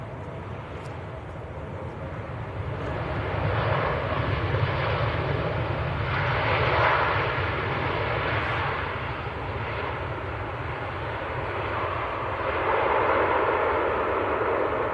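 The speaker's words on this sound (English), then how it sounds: "I think that's one of the steadiest, calmest A380 landings I've ever seen." An Emirates Airbus A380 landing at Manchester Airport, a broad steady jet roar that swells and ebbs over several seconds, fairly close and loud, with no talk.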